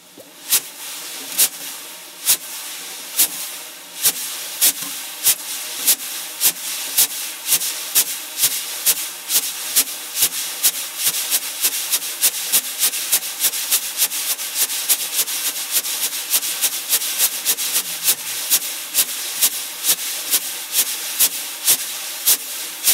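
Drum brushes swept in a half circular pattern produce a steady, soft swishing wash punctuated by evenly spaced, crisp taps at a moderate tempo, played alone and close up.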